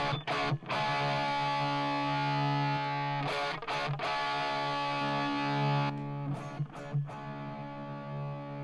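A distorted electric guitar tone is sustained with reverb added, ringing in long held chords broken by a few short gaps and stops.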